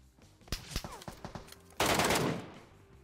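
Gunfire from an SLR rifle in the game Metro Royale: several separate sharp shots crack over roughly the first second and a half, then a louder, denser burst of fire that slowly fades away.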